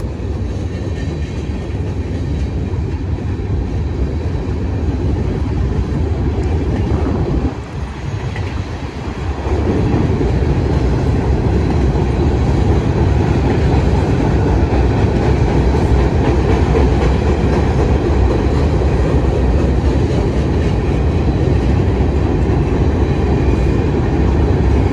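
A freight train hauled by CN locomotives rolls past on the rails along a Toledo line, a loud, steady rumble with rhythmic clickety-clack of wagons, continuous and close, with no talk.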